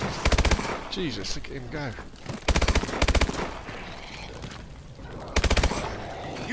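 Machine gun fire from Call of Duty Advanced Warfare Exo Zombies (Outbreak, PS4): four loud, sharp automatic bursts, each under a second, separated by gaps in which someone talks.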